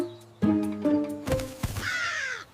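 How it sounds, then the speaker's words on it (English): A crow gives several harsh, rasping caws in quick succession on a farm, close and fairly loud, with a brief rustle in between and no talking. "Crow encounter."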